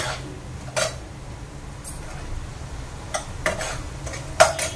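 Upma of semolina frying in a pan and stirred now and then, a faint steady sizzle with a few short scraping strokes of the spoon.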